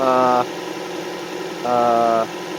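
A 2014 Dodge Dart's 2.4L engine idles steadily just after start-up, a low, even hum running throughout while two short stretches of voice-like tone sit over it.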